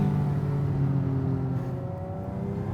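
A supercharged Toyota 2GR V6 engine in a Lotus-engined Toyota MR2 pulls hard, its loud, steady engine note rising as it accelerates, heard close from inside the car without talk.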